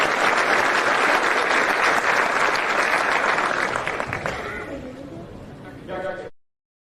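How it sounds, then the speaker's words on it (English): A crowd applauds at a school football award ceremony, loud sustained clapping from many hands that gradually thins, with voices rising underneath as it dies down. "So please give them a big round of applause."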